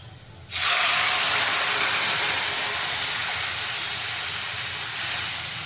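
Ground spice paste added to a hot pan while cooking a bitter gourd dish, setting off an abrupt, loud, steady sizzle that holds for about five seconds with no talking.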